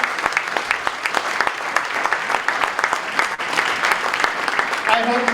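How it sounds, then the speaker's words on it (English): A school awards ceremony audience claps steadily and warmly for award winners, sustained applause filling the room with a voice briefly heard near the end. "One big round of applause for all of our award winners today."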